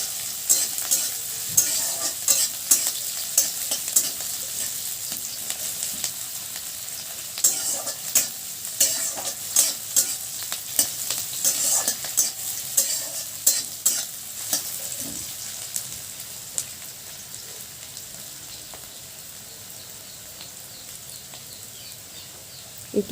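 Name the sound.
stirring egg bhujia frying in a pan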